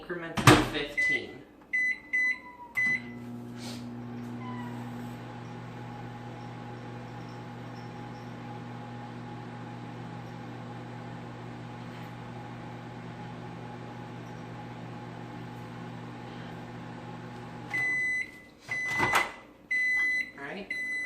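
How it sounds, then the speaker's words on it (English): A microwave oven hums steadily for about fifteen seconds while melting something in a bowl, bracketed by brief clatter, door handling and beeps at start and finish. "put it in the bowl, then microwave it in increments of 15"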